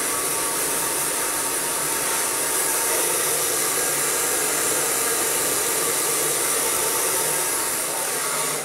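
A hair dryer blowing steadily while hair is dried for a smooth blow-out, a loud, close, constant airy whoosh with no break and no speech.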